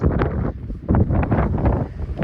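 Gusty wind buffets the microphone in loud, uneven rumbling bursts, rising and falling throughout with no other clear sounds.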